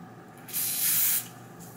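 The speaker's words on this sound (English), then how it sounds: "I try my best to spray closest to like the hair, like down here." Aerosol hair spray sprayed onto wig lace near the hairline, one sustained hiss of a bit over half a second, close and loud against quiet room tone.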